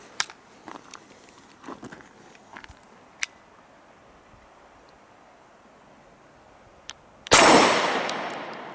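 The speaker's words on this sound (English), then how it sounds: "So the gun goes off." A single loud, sharp pistol shot from a Canik TP9 bursts out near the end, ringing and decaying over about a second, after a stretch of quiet handling clicks.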